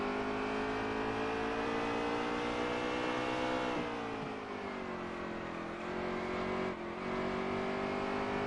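Loud, steady roar of stock car engines lapping an oval track at night, pitch sliding down and back up as cars pass, with no talking.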